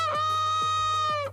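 A rooster gives a single loud, close crow, one rising then sustained call lasting just over a second, heard alone.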